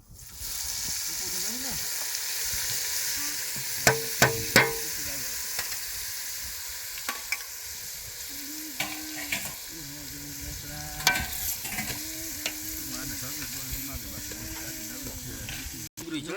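Onions sizzle and fry in a hot pan, a steady crackling hiss with occasional clinks and scraping from stirring.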